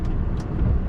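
A truck with a 560 engine running steadily on the road, a constant low rumble close by with a slight swell toward the end.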